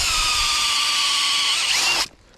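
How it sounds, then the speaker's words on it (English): A power drill bores a tap hole in a maple tree, whirring close by with a steady, high-pitched whine for about two seconds, then cutting off abruptly into near silence. "We're going to take it, we're going to put it in here, and then drill."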